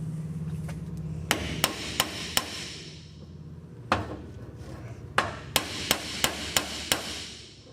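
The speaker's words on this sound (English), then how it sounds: "I'm going to tap on the top of the yoke." Sharp hammer taps drive a cap into the yoke of a 1996 Toyota 4Runner double cardan joint on a bench, a few spaced strikes, a pause, then a quicker run of evenly timed blows over a low background hum.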